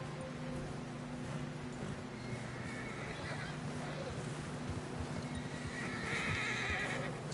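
A horse in the video game Red Dead Redemption 2 neighing and trotting, steady clip-clop of hooves under a constant outdoor bed, with whinnies rising over it and speech mixed in.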